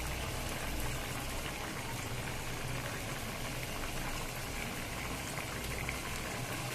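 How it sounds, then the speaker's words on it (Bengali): Pumpkin pieces boiling in a pot of water with salt and turmeric, a dense, steady bubbling roar that stays even and close throughout with no voices. "প্রথমে জল দিয়ে তারপরে কুমড়া দিয়ে সিদ্ধ করে নিচ্ছি"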